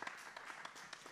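An audience at a master class session claps for a guest speaker, a faint, distant patter of scattered hand claps.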